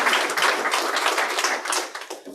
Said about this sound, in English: So please help me with a big hand of applause.